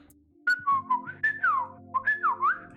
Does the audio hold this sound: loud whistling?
yes